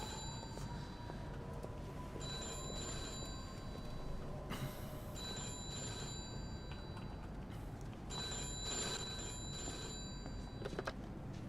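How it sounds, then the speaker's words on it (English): A telephone rings in the Mafia II game world, a faint repeating bell in bursts over a low, rumbling background bed, with no talk. "I'll explain after we deal with the phone call"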